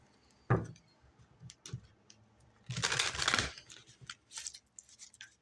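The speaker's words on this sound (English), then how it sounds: "One more shuffle." Soft papery riffling and a sharp tap, followed by a longer burst of brisk oracle card shuffling, then a few light flicks; quiet and close.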